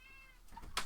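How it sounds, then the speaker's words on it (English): A house cat meows at a closed door, wanting out of the room: a faint, short cry rising near the end, with quiet room tone before it and no talking. "I've got to let the cat out the room as he now wants to leave the room."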